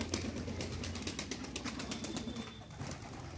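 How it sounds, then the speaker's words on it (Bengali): Flute pigeons of the koka bashiraj breed, gathered outdoors, coo softly amid a busy, noisy background, with occasional faint wing sounds. "অনেক কবুতর এই যে বাইরে রয়েছে,"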